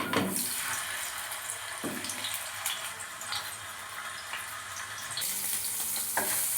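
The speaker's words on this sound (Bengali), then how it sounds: "আলুটা আমি ভেজে নিচ্ছি" Potatoes frying in hot oil give a steady, close sizzle that runs the whole time, with occasional stirring scrapes and brief bursts of crackle.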